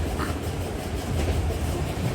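Steady, loud rumble of a moving passenger train heard from inside a carriage on the way to Mumbai, continuous low clatter and hum throughout with no voices.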